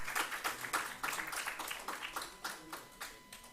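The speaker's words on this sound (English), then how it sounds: "Ladies and gentlemen, please give a round of applause." A small conference-session audience claps. The applause is faint and sparse, with distinct individual claps in an uneven rhythm, heard from a distance in a quiet room.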